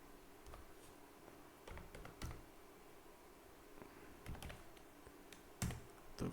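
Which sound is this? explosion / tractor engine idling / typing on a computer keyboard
typing on a computer keyboard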